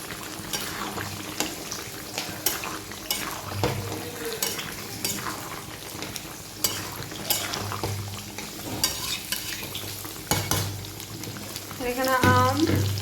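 Prawns frying in a pan make a steady sizzle marked by clatters of a spatula and utensils against the pan, with a short voice near the end.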